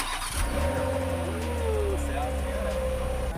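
An Ineos Grenadier engine catches and settles into a steady idle with a brief rise in revs, close and fairly loud, with people talking over it.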